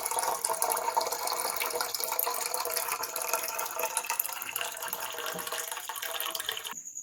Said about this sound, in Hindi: तो पीने के लिए पानी भर लेते हैं।